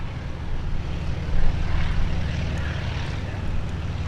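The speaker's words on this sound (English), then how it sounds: "Another antique biplane" An antique biplane flying at an outdoor airshow, its propeller engine droning steadily with a broad rumbling roar that swells briefly, heard at moderate distance without talk.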